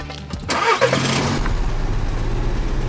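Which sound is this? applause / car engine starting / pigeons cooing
car engine starting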